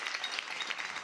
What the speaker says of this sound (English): Let's give Karen a round of applause.